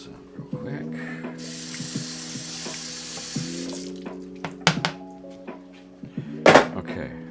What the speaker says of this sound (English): Next thing I want to do is bok choy. Okay. Let me rinse this real quick.